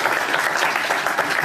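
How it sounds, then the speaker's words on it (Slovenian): Sustained applause from an audience, loud and dense, clapping steadily throughout without a break, given in honor of Cindy at a Serbian televised gathering. "Jedan veliki aplauz za Cindy."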